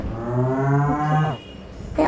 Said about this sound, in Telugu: పెద్ద ఆవు గైస్, ఆవు గాయ్.